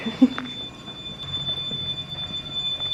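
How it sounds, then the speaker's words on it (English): A steady high electronic beep tone holds throughout in a college apartment building lobby, thin and continuous, over faint background bustle and shuffling. "What's with the beeping?"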